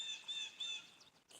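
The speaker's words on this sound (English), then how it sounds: "There's a lot of birds." Birds chirping outdoors on a quiet, warm spring day in the Central Michigan woods, a few short, faint high tweets repeating in quick succession at a distance.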